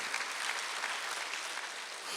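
Church congregation applauding at a Sunday worship service, a steady wash of clapping from many hands, fairly distant and even throughout with no voices over it.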